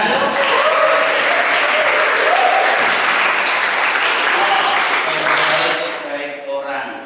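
Students in a classroom clap together for several seconds in a loud, dense burst, with voices mixed in; the clapping fades out near the end.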